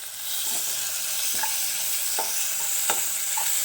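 A spoon scrapes through tamarind rasam (pulicharu) in a pan as coriander leaves are stirred in, giving several light strokes over a steady, close sizzle.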